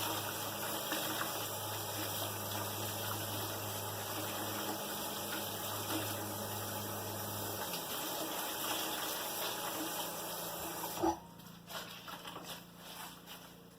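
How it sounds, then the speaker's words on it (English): Steady running water rinses a harvested luffa gourd, a continuous broadband gush with a low pump-like hum, ending in a few clunks and splashes as the flow stops. "Run it under the water some more."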